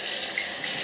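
Hot water pours steadily from a tap into a sink, a continuous close hiss and splash with no voices.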